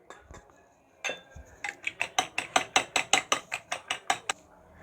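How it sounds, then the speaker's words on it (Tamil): Eggs beaten with chopped onion and chilli powder in a bowl for a capsicum omelette, a brisk run of about fifteen evenly spaced metallic clinks from a whisk or fork striking the bowl, close and alone. "இப்போ இதோடு இந்த வெங்காயத்தையும் ஆட் பண்ணி நல்லா பீட் பண்ணிடலாம்"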